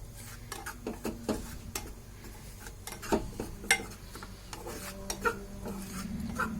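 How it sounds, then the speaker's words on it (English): Gram flour (besan) dry roasting in a pan, stirred with a spoon that scrapes and taps the metal in soft, irregular strokes, faint and close, with no talking. "Now we are going to dry roast the besan."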